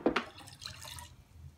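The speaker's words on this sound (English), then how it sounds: "Now we're gonna pour our 2 cups of water, and then we're gonna fill up a whole nother cup of water." Water poured into a cup while mixing a batch of lemonade, a couple of short splashy bursts at the start, then a soft trickling fill that fades, close and fairly quiet.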